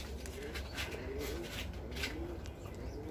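Pigeons coo softly in a breeding loft, several low, rounded calls repeating at an easy pace under faint background noise, fairly quiet and close.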